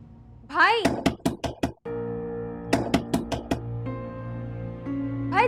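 Knuckles rap on a door in two quick bursts of four or five sharp knocks, separated by a held musical tone, in an indoor family scene from a Pakistani drama.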